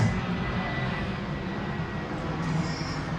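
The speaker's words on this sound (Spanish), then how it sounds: "los domingos a la hora de la misa se emocionan los aviones, pasando más" Airplanes passing overhead produce a steady, broad engine roar that holds loud and even throughout, with a faint higher whine appearing near the end and no speech.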